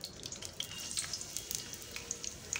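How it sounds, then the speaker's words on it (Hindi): Onions fry in a karahi with a faint, steady sizzle and scattered small pops and crackles throughout. "इसी साथ हम इसमें अपनी ये प्याज डाल दूंगी।"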